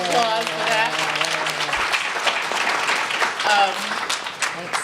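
An audience at a New School talk bursts into sustained applause, with a voice talking over the first couple of seconds before the clapping carries on alone.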